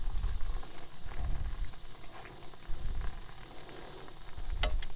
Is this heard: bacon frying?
yes